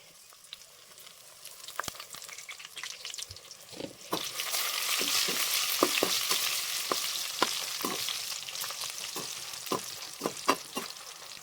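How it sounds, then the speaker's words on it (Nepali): Ginger, garlic and chili sizzle and spit in a hot pan. A steady frying hiss swells midway, broken by frequent sharp crackles and pops. No one speaks over it. "र अब चाहिँ अन्तिममा यसलाई फ्राई गर्नेवाला छु चाहिँ"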